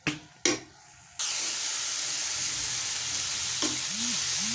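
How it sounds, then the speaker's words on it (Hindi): A chicken mixture fries in a non-stick pan over low flame, starting with a few brief clatters before a steady close sizzle takes over, with occasional spoon stirring. "कलर चेंज होने तक जो है हम इसको अच्छे तरीके से भूनते रहेंगे और साथ साथ जो चम्मच चलाते रहेंगे"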